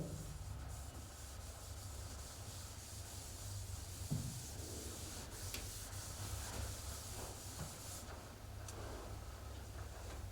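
Writing is rubbed off a classroom board during a physics lesson, making a faint, steady scrubbing and hissing that runs for about ten seconds, with a few small knocks.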